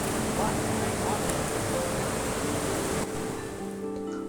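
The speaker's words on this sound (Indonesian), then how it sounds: "Tapi tiba-tiba air sungai mulai naik dengan cepat." Rushing river water rising quickly at a riverside campsite after heavy rain, a loud broadband roar filling the foreground that drops somewhat near the end.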